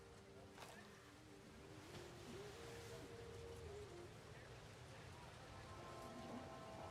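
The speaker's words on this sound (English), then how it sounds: "Huh, it's raining." Steady rain falls in the video game Life Is Strange Reunion, a soft continuous hiss of drops on surfaces with faint tones in the background and no clear talk.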